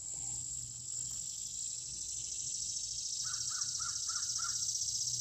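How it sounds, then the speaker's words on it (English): Crow cawing in a summer garden, a quick run of five caws in the distance over a steady chorus of crickets. "We have a crow with us today."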